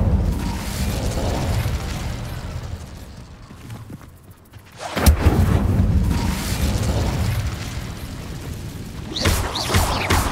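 An Incendio fire spell bursts in Hogwarts Legacy, a sudden loud whooshing blast that swells after a brief lull and then rumbles on, with a second flare near the end.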